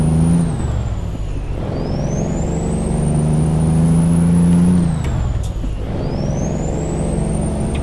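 A Volvo VNL670 truck in American Truck Simulator runs its engine with a steady heavy drone, broken by sharp air brake hisses and releases with whining pitch sweeps, loud and close.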